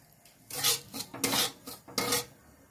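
Semolina (suji) roasting in a pan is scraped and turned in several rough, rasping strokes, each lasting a fraction of a second, steady and close with no voices.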